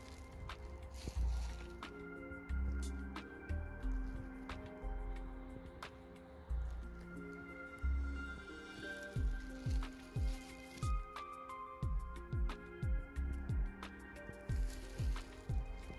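Engine oil pours into a 2007 Vauxhall Combo 1.3 CDTi engine, a faint glugging fill with rhythmic squishy gulps that quicken in the second half, heard quietly up close.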